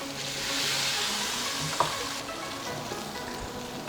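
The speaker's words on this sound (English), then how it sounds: "So we've added the oil." Hot oil sizzles in a pan over a tarka for an Indian restaurant-style base gravy, a steady loud hiss with a brief clatter of stirring, no voices.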